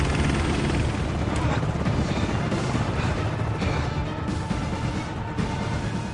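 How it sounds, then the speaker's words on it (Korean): A helicopter lifting off during a film action sequence, its loud, dense rotor and engine roar running steadily throughout and mixed with busy scene noise. "헬기를 띄우는 랭스턴"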